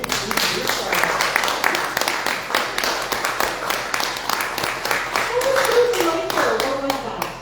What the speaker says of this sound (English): If you would like to clap for the band, please do so